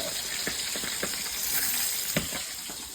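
Pork belly liempo fries in hot oil in a pan, a dense, continuous sizzle with scattered sharp pops and spatters throughout, close and steady.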